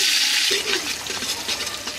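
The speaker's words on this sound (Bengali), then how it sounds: "তেলের মধ্যে দিয়ে দেব পেঁয়াজ কুচি" Chopped onions frying in hot oil for khichuri, a loud, steady broadband sizzle close to the pan that carries on throughout without any talking.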